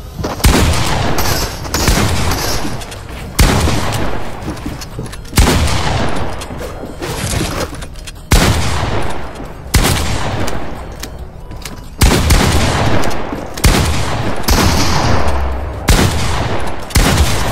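Pump shotgun blasts in the Fortnite battle royale game, a rapid series of loud booming shots in repeated bursts with decaying tails, heard without talk.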